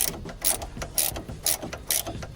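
A ratchet loosens the nut on a front drop link of an Alfa Romeo Giulietta, with an Allen key holding the stud, giving loud, close bursts of rapid clicking in a steady back-and-forth rhythm, no speech.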